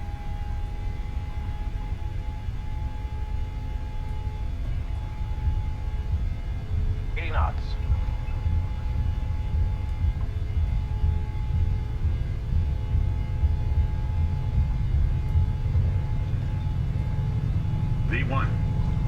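Simulated airliner rolling down a short runway for takeoff in a flight simulator, a steady loud engine roar and rumble building through the run, with cockpit voices heard over it.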